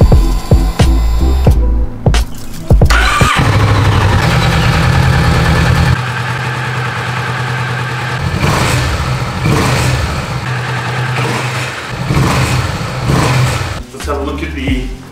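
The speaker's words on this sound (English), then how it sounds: "what does the exhaust sound like?" A Kawasaki Vulcan S motorcycle starts up, then idles and revs through its exhaust, the engine loud and near with a few blips of throttle over about fifteen seconds.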